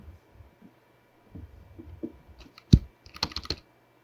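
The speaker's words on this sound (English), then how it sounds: "using the arrow keys for those small movements" Computer keyboard keys are pressed in short taps while drawing frames in Adobe Animate, faint scattered clicks building to a loud single press and a brief cluster of quick keystrokes near the end.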